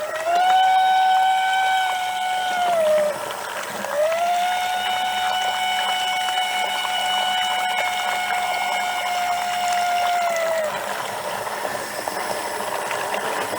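A pump in a tub hums with a steady tonal whine that dips and restarts once, over a continuous churning, sloshing wash of moving water.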